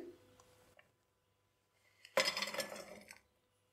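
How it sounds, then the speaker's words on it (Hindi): Jaggery is dropped into a cooking pot for syrup, giving a brief burst of close clattering and clinking against the metal after a quiet pause. "अब गुड़ का शीरा तैयार करने के लिए एक बर्तन लेंगे, उसमें हम ये गुड़ डाल देंगे।"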